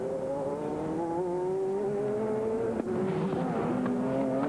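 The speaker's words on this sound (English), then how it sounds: "On board with number 10, the BMW of Bill O'Byrne. It's an inline 6." From on board the number 10 BMW inline-six race car at a 2001 American Le Mans Series round, a loud, sustained engine note holds steady and then climbs in pitch with brief dips at gear changes, heard alone without voices.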